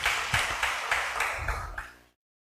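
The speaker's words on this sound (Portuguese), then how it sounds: "Dê um aplauso de novo ao Senhor." A congregation at a Portuguese-language church service applauds in a sustained burst of claps that gradually fades, then cuts off to silence.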